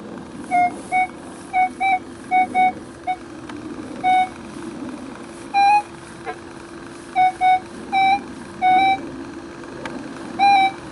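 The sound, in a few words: metal detector signal tone over a possible silver coin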